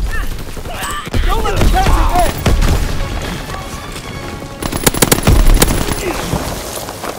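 Rapid machine-gun bursts and heavy booms of WWII-era combat in a video game tear through the scene in loud, dense volleys, with shouted battle commands over the din.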